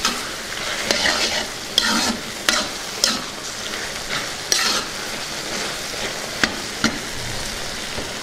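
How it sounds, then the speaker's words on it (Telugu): Chilli powder being stirred into a brinjal and green pea curry in a pan, a steady close sizzle broken by repeated scraping strokes of a spoon at an uneven rhythm, with no talking. "ఇందులోనే కొద్దిగా కారం వేసుకుందాం దీన్ని కూడా ఒకసారి బాగా కలుపుకుందాం"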